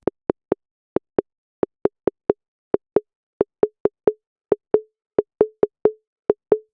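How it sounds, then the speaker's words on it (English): A Moog Spectravox bandpass filter with its resonance set near self-oscillation is struck by gate pulses, and each pulse rings out as a short tonal ping at one pitch. The pings come in irregular clusters, and some have slightly longer decaying tails. "Right, we get a tone, we get a sound, we are pinging this filter."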